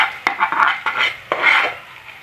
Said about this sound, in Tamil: வெங்காயம் கோல்டன் ஃப்ரை ஆகிற வரைக்கும் வதக்கி விட்டுட்டே இருங்க